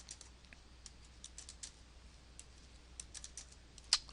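Quiet typing on a computer keyboard as commands are entered, with scattered soft key clicks over a low hum and one sharper key strike near the end.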